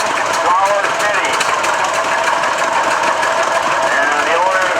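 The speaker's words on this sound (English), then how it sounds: "And here we got the Flower City coming through" A 1911 Flower City antique tractor engine runs steadily as it passes in a parade, its continuous mechanical chugging loud and close under a busy outdoor crowd din, with no pauses across the stretch.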